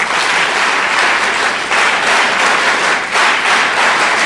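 A large group of cadets at Rashtriya Military School Dholpur claps together loudly, a dense, continuous roar of applause that holds steady throughout with a brief dip partway through, no voices on top.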